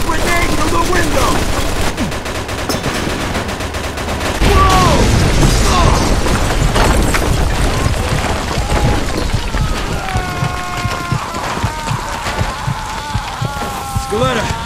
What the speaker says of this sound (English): Put a grenade through the window!